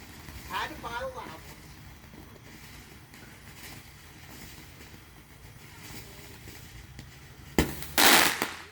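Loud fireworks burst suddenly near the end with a sharp bang and a crackling roar, after a stretch of quiet outdoor background with faint talking and chatter earlier.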